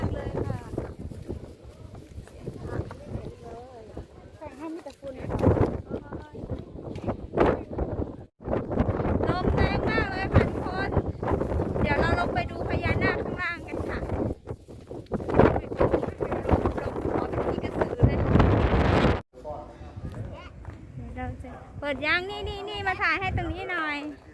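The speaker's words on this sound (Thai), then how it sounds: "ลมเย็นมาก" Cold wind gusting across the microphone at a hilltop temple in Mukdahan, buffeting rumbles rising and falling under near-constant chatter from several people.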